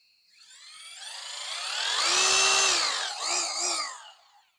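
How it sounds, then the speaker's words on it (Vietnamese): A Bosch GBH 2-28 DV 820 W rotary hammer drills in rotation-only mode, without hammer action: one close, loud motor whine that spins up, holds a steady high pitch, then winds down over about four seconds, with no talking. "Đây là chế độ khoan không búa ha."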